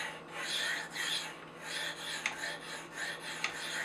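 Knife edge drawn in repeated rasping strokes along the ceramic rods of a Spyderco Sharpmaker, about seven close, rhythmic scraping passes with a couple of sharper clicks, no talk.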